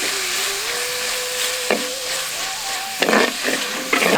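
Chopped tomatoes sautéing in a pan for a village-style mutton kurma, a steady sizzling hiss with a thin whistling tone, broken by a few louder bursts as the pieces are stirred.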